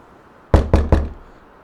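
In Farm Sim 19, a door is knocked three times in quick succession, sharp, close and loud knocks over near silence.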